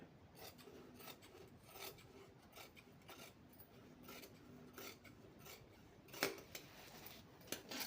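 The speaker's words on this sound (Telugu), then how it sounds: "ఈ విధంగా మార్క్ చేసుకున్న విధంగా ఇలా కట్ చేసుకోవాలి" Scissors snip through a cross belt along a marked line in a quiet run of soft, rasping cuts that repeat steadily and sit close, with no voices.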